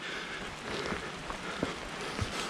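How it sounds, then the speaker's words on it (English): Light rain beginning on a forested hiking trail on the Oregon coast, with scattered faint drops tapping close by over a soft steady hiss of outdoor ambience. "Starting to get little drops on me."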